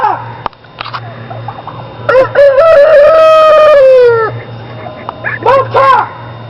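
Rooster crowing loudly and close, one long drawn-out crow in the middle with shorter clucks and calls before and after, over a steady low hum.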